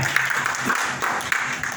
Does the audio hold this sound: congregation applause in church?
yes